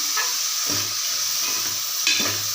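Onions sautéing in oil with a pinch of salt hiss in a steady, close sizzle, broken by a few soft knocks and scrapes from stirring, with no one speaking.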